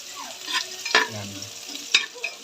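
Ginger fries in a pan with a bright, close sizzle, broken by a few sharp scrapes and clinks from stirring over about two seconds.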